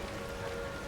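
Steady rain falls in Skyrim, a soft continuous hiss of drops with a faint hum beneath, brief and even without any voices.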